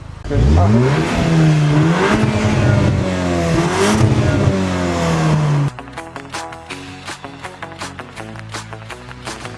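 A Cupra Formentor VZ SUV engine revs hard and loud for several seconds, rising and falling in pitch, then cuts to a lower rumble broken by sharp clicks and knocks.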